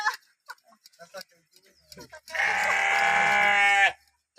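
A sheep gives one loud, drawn-out bleat lasting over a second, close by, following brief scattered chatter from people nearby.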